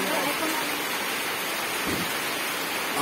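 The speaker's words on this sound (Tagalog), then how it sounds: "Umuulan po rito sa Nagbayan, Katilio, Sambales" Rain falls in Nagbayan, Castillejos, Zambales, a steady hiss of drops spread evenly across the short stretch, with one dull low thump near the middle.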